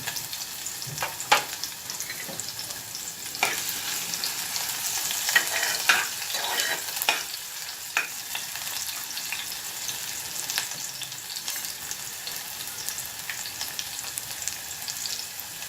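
Mutton sizzles in a pan with half an onion, a steady crackling fry broken by intermittent scraping and stirring sounds, fairly close and without talk.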